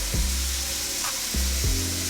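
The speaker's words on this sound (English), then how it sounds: "Get a large to medium sized pot and fill it with water. It's boiling water, not much to it." A large pot of water boils at a steady roll, giving a constant loud hiss and bubble, broken by a few dull knocks and clunks.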